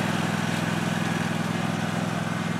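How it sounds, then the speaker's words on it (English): A Husqvarna lawn mower engine runs steadily and close by, a continuous buzzing drone with an even pulsing texture and no pauses or talk. "She has her Husqvarna, and that's all she cared about. Because now she wants to mow again."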